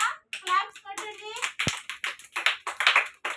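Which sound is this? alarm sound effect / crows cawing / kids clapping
kids clapping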